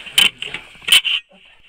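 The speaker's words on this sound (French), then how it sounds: "c'est le bruit de mon épaulière" Shoulder strap gear clinks in two short metallic bursts about a second apart, close by, followed by a brief quiet rustle, with no talk during the sounds.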